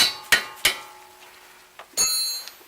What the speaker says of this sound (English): I'm going to use a mallet. I don't like to use my hands to break stuff loose, so I'm going to tap on that and break that bolt loose